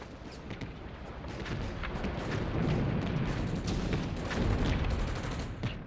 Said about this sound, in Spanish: los campos barridos por las ametralladoras y los rápidos disparos de la artillería.